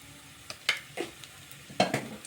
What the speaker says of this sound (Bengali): ভালোভাবে আবারও একটু মশলাটা কষিয়ে নিচ্ছি